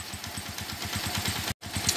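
A Suzuki Shogun Robot motorcycle engine idling after a major service, with a worn piston, a steady rapid low puttering pulse, close and even, briefly cut out for a moment.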